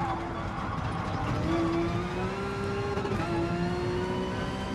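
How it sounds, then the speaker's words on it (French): A Porsche 911 GT3 racing in Gran Turismo Sport, its engine holding a steady, continuous drone with a slow rise in pitch partway through, moderately loud and alone. "Alors je roule en Porsche 911 GT3"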